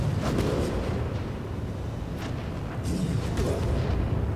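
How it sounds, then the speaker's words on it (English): Explosions during a cave fight in the game Divinity: Original Sin, loud booming bursts rolling over a continuous rumbling din, with a couple of stronger blasts standing out. "there's just explosion noises like literally everywhere"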